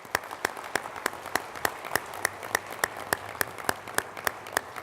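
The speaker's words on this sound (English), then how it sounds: "a round of applause for our first 5 finalists" A small audience at a student business challenge claps slowly for the finalists in a sparse, rhythmic pattern of distinct, evenly spaced hand claps that keeps going without pause.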